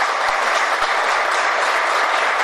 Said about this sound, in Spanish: Ahí está el aplauso